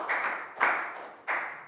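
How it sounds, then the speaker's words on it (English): Classroom applause for a Year 4 pupil during a science lesson, three quick bursts of clapping from a group of children, fairly close and bright, with no talk over it. "Big round of applause for Lakgao."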